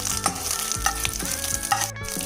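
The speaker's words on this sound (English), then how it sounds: "I'm then going to fry this for about 30 seconds." Steady crackling sizzle of garlic and curry leaves frying in hot oil, with occasional stirring scrapes, close up and no voices.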